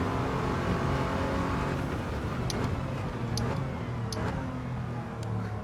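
An Audi TT VR6 with nearly 50,000 miles, converted into a race car in Gran Turismo 7, runs near full throttle, giving a steady, loud engine drone with a few light ticks on top.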